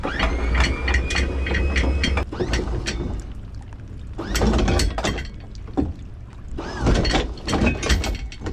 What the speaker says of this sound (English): Let's hoist the anchor.